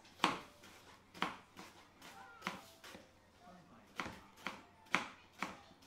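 A knife chops through cooked Hainanese chicken on a cutting board in about seven distinct, evenly spaced thuds, each a crisp close strike, in a quiet kitchen.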